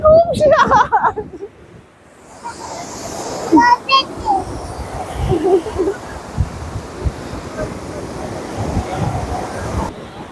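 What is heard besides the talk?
sea waves at RK Beach, Visakhapatnam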